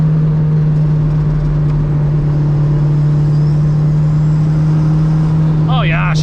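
A triple-turbo Honda Civic engine runs with a steady, loud droning hum, and a voice speaks briefly near the end.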